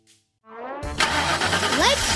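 A toy jungle car in a Daniel Tiger video game starts up after a short rising cartoon whistle, its engine catching and settling into a loud, steady rumble close by.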